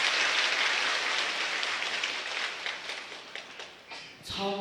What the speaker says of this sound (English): Please applaud her.